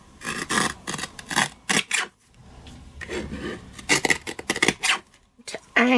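A paper card letter is trimmed, with close rasping, rubbing strokes of a blade or scissors working in bursts, pausing briefly between passes.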